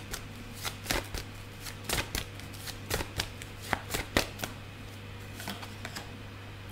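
Tarot cards are shuffled by hand in quick, soft bursts of riffling and flicking, close by and fairly quiet, with brief pauses between clusters.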